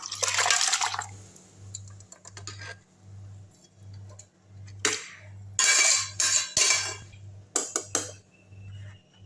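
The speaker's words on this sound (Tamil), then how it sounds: "இப்போ வந்து இந்த வேக வச்ச நல்லி எலும்பை வந்து தூக்கி ஊற்றிடலாம்" Boiled mutton marrow bone pieces and their cooking water are tipped into a pan in several loud, irregular clattering splashes. A steady low pulsing hum runs underneath, and no one speaks.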